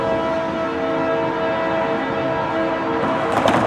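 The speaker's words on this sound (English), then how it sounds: "we have a SJVR going over the diamond right now" SJVR freight train rumbling across a railroad diamond with its horn sounding steadily and loud, a sustained chord over heavy rail noise, with sharp clatter of wheels near the end.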